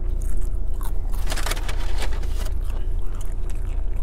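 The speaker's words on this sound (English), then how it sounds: "Let's stuff one of these chips in here for that nice crunch and softness balance." Close, crunchy biting and chewing of tortilla chips stuffed into a Chipotle carne asada burrito, loud crackling bites around the middle over a steady low background hum, with no talking.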